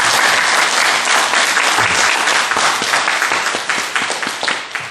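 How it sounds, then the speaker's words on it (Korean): A Buddhist lecture audience breaks into dense, loud applause, many hands clapping steadily for the whole stretch and fading slightly toward the end. "이렇게 박수 한번 확 쳐보세요"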